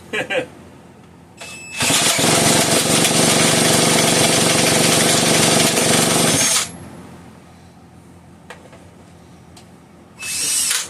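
A Homelite 150 chainsaw engine gets spun over by a screw gun, a loud, harsh cranking whir lasting about five seconds, with brief clicks and bursts before it and another short cranking run at the end.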